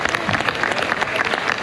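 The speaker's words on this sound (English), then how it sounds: "Join me in giving them a round of applause" Audience at a military observance ceremony applauding, a brief, dense burst of many hands clapping together, fairly loud and steady throughout.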